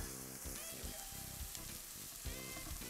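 Mushrooms and shallots fry and caramelize in a pan, giving a steady, close sizzle with a faint tonal hum underneath and no talking.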